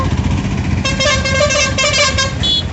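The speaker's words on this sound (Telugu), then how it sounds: "చూసారా ఫ్రెండ్స్, ట్రాఫిక్ అయితే ఎంత ఎక్కువగా ఉందో." Heavy road traffic at a tribal hill-country market, with car and motorcycle horns honking in sustained overlapping blasts over a steady close roar of engines.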